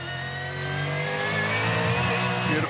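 A race car engine at full throttle in second gear revs hard and climbs steadily in pitch, loud and close, with no voices over it.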